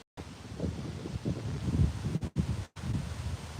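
Gusting wind outdoors beside a shop, buffeting the microphone in uneven bursts with a couple of brief dropouts, loud and close with no voices.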